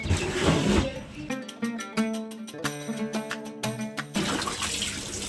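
Water running and splashing while a household air cooler is cleaned, with gushing flow at the start and end and a stretch of irregular dripping and clattering in between, fairly close; no speech.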